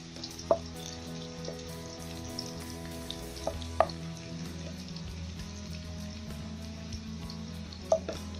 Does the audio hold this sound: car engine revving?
no